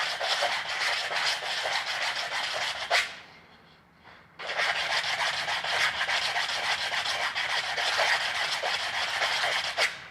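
Wood being hand-sanded with 150 grit sandpaper: a steady, close rasping rub that carries on continuously, breaks off for about a second, then resumes at the same even strokes.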